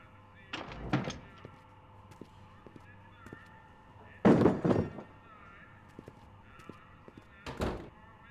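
Doors in Back to the Future: The Game thunking shut in a quiet room, with several dull knocks and a louder slam midway, spaced apart over a low steady hum.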